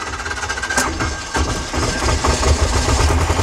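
A freshly repaired engine with a new starter, likely on farm machinery, settles into a steady, close, rumbling idle with continuous vibration and no talk.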